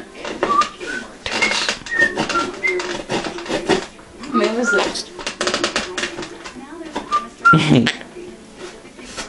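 A pet bird gives short whistles and coo-like calls in bursts scattered through the stretch, close by and mixed in with a person talking to it.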